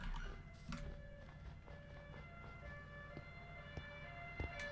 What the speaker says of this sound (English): Yeah, yeah, sirens indeed.